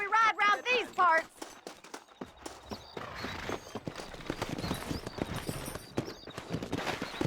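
A horse gallops in the Red Dead Redemption video game: a whinny opens, then steady rapid hoofbeats pound on for several seconds at close range.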